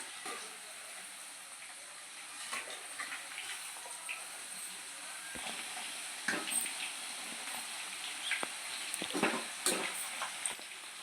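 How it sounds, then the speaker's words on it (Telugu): Chicken pieces frying in a pan for chilli chicken, a steady hiss of sizzling with occasional pops and stirring clatter, close and fairly quiet throughout. "చికెన్ అనేది మనకి కొంచెం డ్రీ ఫ్రైగా వేగాలండి"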